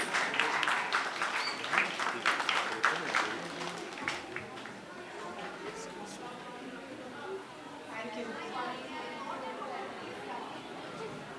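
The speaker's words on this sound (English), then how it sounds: "Can we have a round of applause, please?" An audience claps loudly and steadily at a book launch event, the applause fading into lighter scattered claps and crowd chatter.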